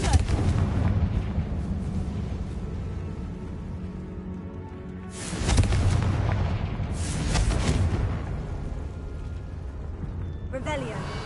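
Two loud booming fire-spell blasts from the Confringo spell in the video game Hogwarts Legacy erupt over a continuous rumbling game backdrop, with a voice speaking nearby.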